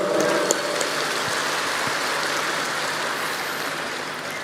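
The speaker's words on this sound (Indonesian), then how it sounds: "Tepuk tangan untuk semua." A large crowd at an Islamic tabligh akbar gathering for the Muhammadiyah-'Aisyiyah congress applauds in a dense, steady wash of clapping that holds at an even level throughout.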